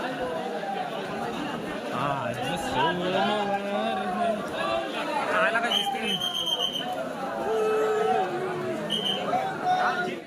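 Busy crowd chatter along the Tara to Bhimashankar trek route, many voices mingling close by while a nearby person speaks over the hubbub.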